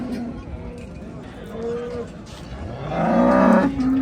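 A Simmental crossbreed calf gives one drawn-out, loud moo near the end at a busy livestock market, with people talking and other animals in the background.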